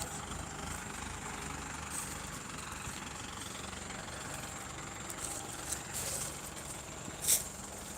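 A John Deere tractor's engine idles and runs steadily in a sugarcane field, a low continuous rumble with faint hiss, and a brief sharper burst near the end.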